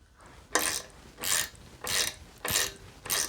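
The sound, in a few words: torquing bicycle crankset bolts to 15 Newton meters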